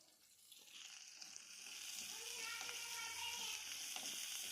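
Garlic and onion fry in oil for a vegetable curry, a soft sizzle that grows steadier and a little louder after the first second, heard fairly close with no talking.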